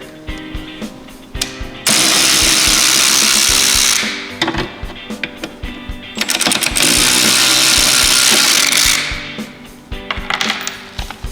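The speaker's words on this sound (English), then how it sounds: "To do that, we have a Torx 20. We're gonna remove these 2 screws here." Power driver backing out Torx 20 screws from the oil pump guard of a 2018 Ski-Doo 850 snowmobile: two loud, sustained whirring bursts, each several seconds long, broken up by short clicks and rattles.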